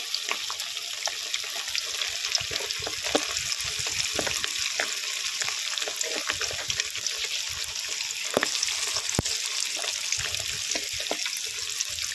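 Chicken pakora sizzling steadily in hot oil over a low flame, a continuous close crackle with scattered sharper pops and occasional stirring clicks, no voices.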